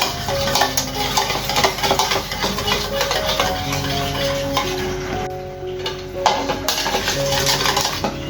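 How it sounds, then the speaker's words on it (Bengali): Egg and a spoonful of sugar being beaten in a bowl, with a steady run of quick, close clinks and scrapes of the utensil against the bowl's sides throughout. "ভালো করে এখন ডিমটাকে ফেটিয়ে নিব।"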